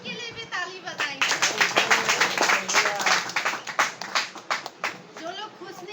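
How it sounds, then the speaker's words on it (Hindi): Many hands clap in a rhythmic, fairly steady beat from a village congregation in Gopur, Assam, lasting several seconds between stretches of a man preaching. "जो खुशी है उनके लिए भी ताली बजाएंगे।"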